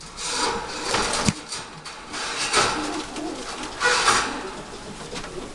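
Stock pigeons, including a T-checker hen, coo in a loft with soft rubbing and wooden knocking sounds from the birds moving nearby, the calls rising and falling in several close bursts.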